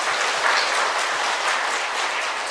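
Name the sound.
applause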